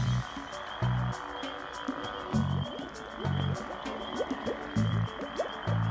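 Frogs croak in the video game Vine Realms, a chorus of deep, repeating croaks at an uneven rhythm over a steady insect-like background drone, with no talking.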